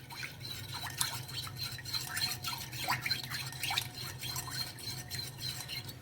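Milk and curd are stirred together for cake batter, giving soft, wet, scraping and clinking strokes of a spoon against a bowl, fairly quiet and repeated in an irregular rhythm.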